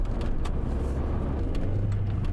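Idling 2-liter Honda City engine, a steady low rumble close by, running evenly with no revving and no voices.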